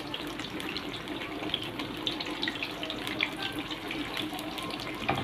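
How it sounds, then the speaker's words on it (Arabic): Chicken strips fry in hot oil with a continuous, fairly quiet bubbling hiss, broken by scattered small crackles and pops. "هنا خلاص نزلت بقى بقطع الفراخ"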